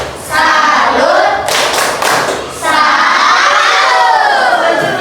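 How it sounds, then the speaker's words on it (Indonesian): Primary school children clap and cheer loudly for a classmates' group in a classroom, a dense burst of hands and excited shouting voices that briefly dips, then surges again. "sekarang kita beri tepuk tangan dulu untuk kelompok Norma Kesusilaan."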